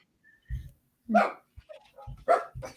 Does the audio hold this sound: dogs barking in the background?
yes